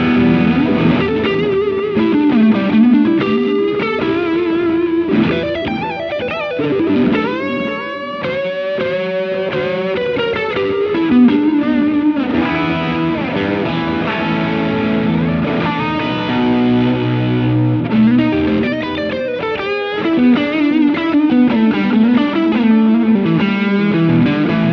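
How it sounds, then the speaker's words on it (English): An electric guitar played through Walrus Audio distortion and delay pedals, loud and continuous, with gritty sustained notes, melodic runs and echoing repeats trailing behind the phrases. "I'm gonna start with the distortion and the delay."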